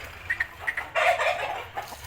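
Two high-class Jawa Aseel roosters cluck nearby, a few short clipped calls followed by a longer, louder vocal burst, with no talking.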